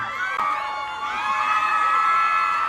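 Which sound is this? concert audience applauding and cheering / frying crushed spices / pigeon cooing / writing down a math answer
concert audience applauding and cheering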